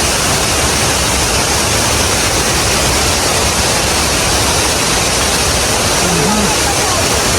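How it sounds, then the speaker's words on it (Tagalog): Waterfall in Shizuoka, Japan, a loud, dense, unbroken roar of falling water heard up close, with a faint voice briefly under the rush. "So ayan, touch down the waterfall."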